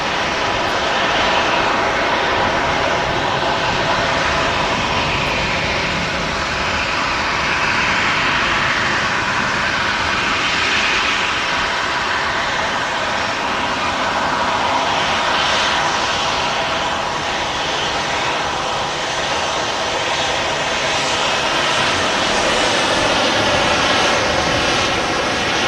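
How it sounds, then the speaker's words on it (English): A Jet2 Boeing 757 jet airliner taking off at Manchester Airport, a loud, sustained broadband engine roar that holds steady throughout the takeoff roll and climb, with no talk over it. "Not spending much time on the ground at all there on the takeoff roll."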